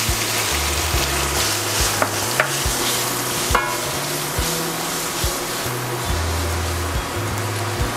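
Garlic and onion sizzle in a hot frying pan for a pasta dish, a steady close frying hiss broken by the soft scrape and knock of stirring at an uneven rhythm.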